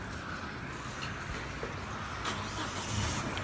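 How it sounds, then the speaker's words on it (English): A truck engine starts and rumbles as the vehicle pulls away on a city street at night, a faint, steady motor drone under broad traffic noise. "Looks like this guy's gonna get in this truck, so we better get out of his way or we're gonna get ran over."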